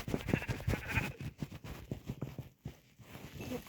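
Several short sheep bleats from a video game sound in quick succession, fairly close, followed by a brief quiet gap and a few fainter bleats.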